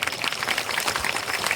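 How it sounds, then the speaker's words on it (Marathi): An audience at a Bhagavat Katha religious discourse applauds, a dense, steady patter of many hands clapping loudly and close throughout the short stretch. "जोरात टाळ्या वा वा."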